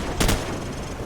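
Burst of gunfire in the Call of Duty 4 video game, a short loud volley of a few close shots over a dense, noisy battle backdrop.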